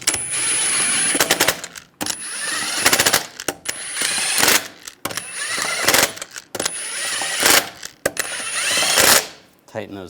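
Lug nuts being run down on a Chevrolet Silverado 1500 wheel with an impact tool, a series of loud rattling bursts, each lasting about a second, separated by short pauses.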